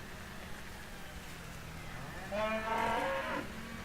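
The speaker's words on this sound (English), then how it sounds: "Ooh, cows, watch out." A single cow in a farming video game moos loudly for about a second near the end, over a quiet background hum.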